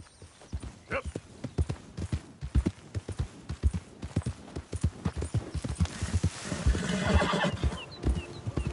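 Rhythmic clip-clop of horse hooves trots steadily, with a horse whinnying partway through and a voice speaking briefly, in Red Dead Redemption 2 game audio.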